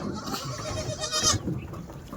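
Several Kathewadi goat kids bleat in quick, overlapping cries from close by, with a busy outdoor background of handling and movement around a loaded vehicle.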